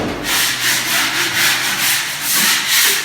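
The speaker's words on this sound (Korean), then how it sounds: "이제 긁어놓으면은 1차 퍼티를 하면서 들러붙어 있었던 덩어리 알갱이들이 떨어져 나가죠" A scraper drags over a drywall joint, knocking dried lumps of putty loose. The scratchy rubbing strokes repeat in a steady, even rhythm for several seconds, close and fairly loud, with no talking.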